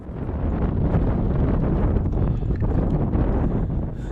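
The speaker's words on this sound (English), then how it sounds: "Gusts sweep across the ridge with surprising force, sometimes strong enough to throw off your balance." Strong alpine wind gusting across Tent Ridge, a loud continuous roaring buffet battering the microphone with rumbling low-end turbulence, sustained throughout with no voices.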